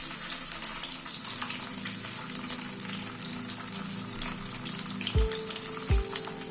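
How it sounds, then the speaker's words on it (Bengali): Fish koftas frying in oil over a medium gas flame, a steady close crackling sizzle running throughout with a couple of brief low clunks near the end. "গ্যাসের ফ্লেমটাকে মিডিয়ামে রেখে কোপ্তাগুলোকে লাল করে ভেজে নিচ্ছি।"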